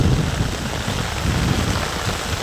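Heavy rain pours steadily in Sangrur district, a dense, even roar of water striking surfaces without a break, loud and close with no voices.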